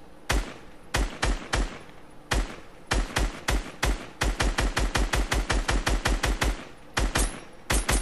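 SCAR rifle fire in Fortnite: loud, sharp shots in close bursts and rapid strings of evenly spaced cracks, separated by brief pauses, with no voices.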